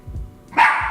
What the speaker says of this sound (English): no more barking, please